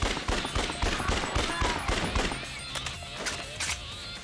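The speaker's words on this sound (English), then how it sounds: "So feel free to, like, use the pistols." Rapid gunfire in the zombie-fighting game Yakuza Dead Souls, dense bursts of pistol shots with clattering game effects, loud and continuous throughout with no talk over it.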